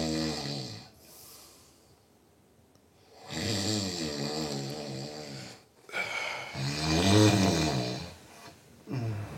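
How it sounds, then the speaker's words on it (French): A man snores loudly in deep, rattling breaths, three long rasping snores separated by quiet pauses, close and clear with no talking. "On dit ronfle, bah oui, il ronfle."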